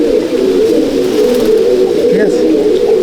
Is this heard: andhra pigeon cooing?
yes